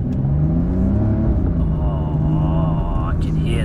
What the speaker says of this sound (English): You can hear the exhaust noise, it just changes.